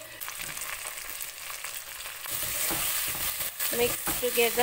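Green chilies, mint leaves and coriander leaves sizzle and fry in hot oil for a soya chunks biryani, a steady close crackle that grows louder partway through as the pan is stirred, with a brief spoken instruction over it.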